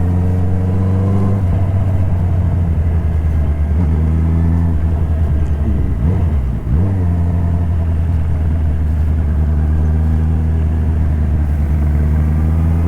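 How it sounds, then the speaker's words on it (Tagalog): A car passes on a Philippine highway, its steady engine rumble holding loud throughout, with a brief dip and swell near the middle as the vehicle goes by. "Oh, may sasakyan."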